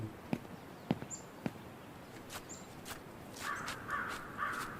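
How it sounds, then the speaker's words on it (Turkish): Crows caw in short bursts in the IKAI horror video game, a few sharp calls near the end over a quiet, eerie background with soft thumps earlier. "Oo, karga sesi."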